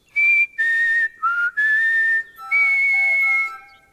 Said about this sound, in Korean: 피리 소리였구나